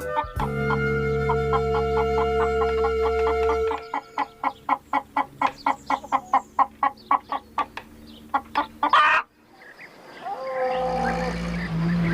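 A burst of rapid hen clucking in a children's cartoon, in quick regular pulses, loud and close, framed by other animal calls and a sustained cackling sound.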